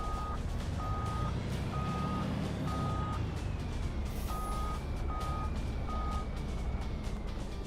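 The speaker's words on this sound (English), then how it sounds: "Pull the truck back up." A truck backing up in the video game Farming Simulator 25, its reversing alarm beeping in a steady repeating pattern over a constant loud engine drone, with no talk.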